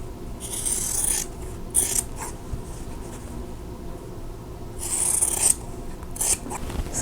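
Scissors or a rotary cutter trimming the fabric corners of a quilt block, heard as a few short, close rasping cuts in two clustered bursts with quiet gaps between.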